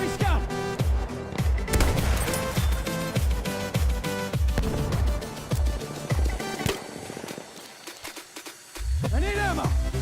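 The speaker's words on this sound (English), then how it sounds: "start to take them out with my sniper rifle" Gunfire in a first-person video game: a rapid, loud run of repeated shots with booming tails, a short quieter gap near the end, then more firing resumes.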